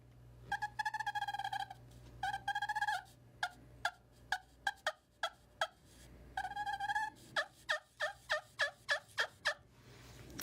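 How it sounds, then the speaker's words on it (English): Turkey calling on a Lim Walker Game Calls purr plate worked with a cedar striker: soft, mellow yelps in two rolling bursts alternate with series of short, evenly spaced clucks, close and clear with no talking. "the purr plate from Lim Walker Game Calls"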